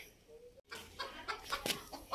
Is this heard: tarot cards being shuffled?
no